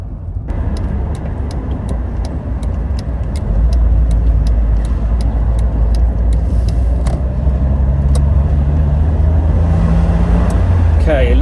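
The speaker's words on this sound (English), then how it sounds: "if you can hear me above the roaring wind noise" Roaring wind buffets an open-top Fiat Punto Cabrio as it drives with the roof off, a loud continuous rush over low road and engine rumble, steadily building as speed rises.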